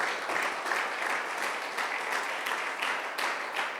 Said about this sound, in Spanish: Démosle palmas al Señor en esta preciosa noche.